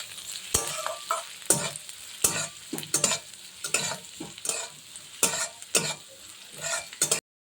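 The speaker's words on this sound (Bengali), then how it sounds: "বেশি পেঁয়াজ কুচি হোক রসুন হোক বেশি লাল লাল করে ভাজবো না সবই হালকা করে ভাজবো" Chopped onion and garlic fry lightly in a pan over a medium gas flame, with repeated stirring scrapes and a steady soft sizzle, close and fairly quiet, punctuated by sharper bursts of utensil contact.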